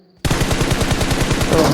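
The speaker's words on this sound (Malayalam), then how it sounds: "വെടി വെച്ചിട്ടുണ്ട്" Rapid automatic gunfire in the BGMI mobile battle royale game, a loud burst of evenly spaced shots starting abruptly after a near-silent moment and running without pause to the end.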